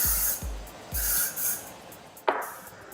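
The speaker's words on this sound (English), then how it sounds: "The second spray to the top." Hairspray hissing from an aerosol can onto styled hair at a salon, three quick bursts in a row, then a sharp fourth spray, close and loud, with no talking.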